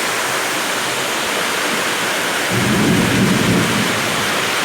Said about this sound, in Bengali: কি জোরে জোরে বৃষ্টি পড়ছে বাবা রে বাবা মুসুলধারে বৃষ্টি শুরু হলো